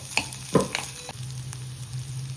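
Green chillies and onion fry in a pan, with a few sharp stirring clatters over a low, continuous sizzle heard up close, no voices.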